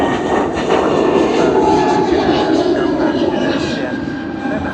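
Departing airliner at Sydney Airport, a loud sustained rushing jet roar at fairly close range, with voices audible underneath.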